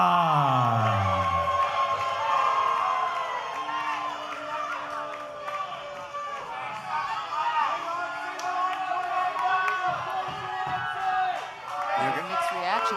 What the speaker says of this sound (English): Mixed reaction from the crowd here tonight